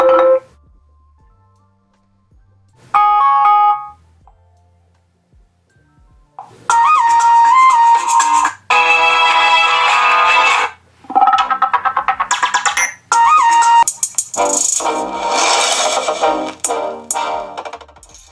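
Loud electronic ringtone melodies play through the large rear loudspeaker of a Ruggex Rhino Quest v2 rugged Android smartphone, several different tunes in turn, bright and chiming, separated by short pauses.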